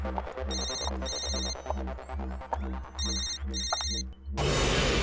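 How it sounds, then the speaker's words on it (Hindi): A mobile phone ringtone sounds in repeated electronic bursts over a loud, throbbing background score in a horror drama scene, then gives way to a sudden wash of noise at the end. "फोन तो यहीं कहीं बज रहा है"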